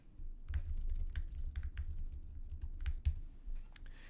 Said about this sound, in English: enter in your keywords and search terms one by one. And to separate them, you press either the comma or the return key